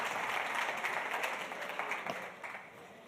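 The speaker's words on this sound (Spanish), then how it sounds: "aplausos también para él" Audience applause for a panel speaker at a Spanish-language financial cybersecurity event, a steady dense patter of many hands clapping throughout, fading slightly near the end with no one talking.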